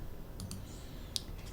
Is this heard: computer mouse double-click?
yes